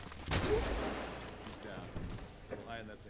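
Gunfire in Medal of Honor Warfighter during sniping from a building: one loud burst early on, followed by fainter shots and clatter, with game music behind.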